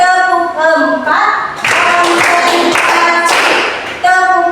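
Classroom clapping game: groups of rhythmic hand claps come in short bursts, loud and close, alternating with a voice chanting over a steady background.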